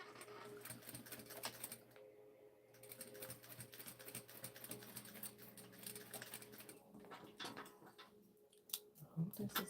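Rapid mechanical clatter of a sewing machine stitching a jumpsuit, in short bursts with pauses, fairly faint and close.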